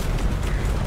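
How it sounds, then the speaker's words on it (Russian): A tank cannon hit in War Thunder, a critical shot into the side of a Leopard tank, heard as a loud, dense, rumbling blast that fills the whole second without letting up. "Знакомьтесь, критический выстрел в борт Леопарду"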